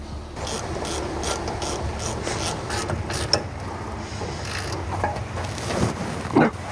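Hand ratchet tightening 10mm and 12mm bolts on car suspension brackets during an air ride to coilover swap, close rapid clicking in repeated bursts of strokes with brief pauses, ending in a few louder clunks.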